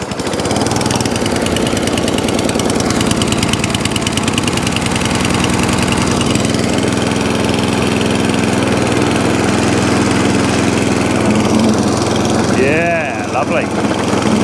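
An old ATCO Balmoral cylinder lawnmower's petrol engine fires up on choke and runs loud and close with a steady, rattling mid-pitched drone, a voice speaking over it.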